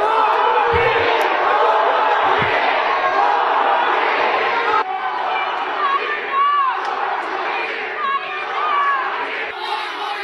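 Large crowd heckling a politician, loud shouting and chanting voices rising together in a dense roar, with individual yells and cries breaking through over the din.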